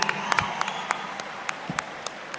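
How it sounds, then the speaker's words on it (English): Scattered audience claps for a film lyricist at the Pushpa Wildfire event in Chennai, sparse individual hand claps popping out irregularly over a low room murmur. "please give a huge round of applause to the man behind the wonderful lyrics"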